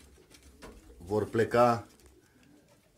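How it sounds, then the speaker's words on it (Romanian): Racing pigeons coo in a loft before being crated for a training flight, a short burst of throaty rolling coos rising over quiet background while someone talks briefly. "toți porumbeii din crescătorie îi voi lua acum, îi voi pune la lada de transport"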